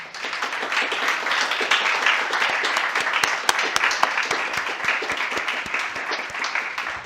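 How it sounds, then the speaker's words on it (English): A crowd at a competition finals event breaks into sustained, dense applause, with many hands clapping steadily at a moderate distance for the whole stretch. "please stand up so we can give you a round of applause"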